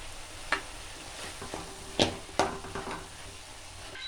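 Cabbage and carrot are stirred into sautéing onion and tomato in a pan, with a soft steady sizzle broken by several distinct scraping, clacking spoon strokes.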